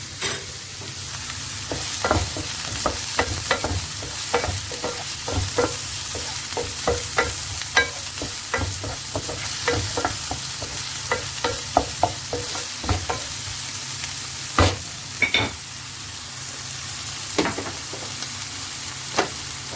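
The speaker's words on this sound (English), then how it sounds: "So the other part is keep stirring the pasta." Creamy tomato pasta with tuna being stirred in a hot pan, a steady sizzle under repeated scraping and clicking strokes of the utensil, close and continuous with no talk.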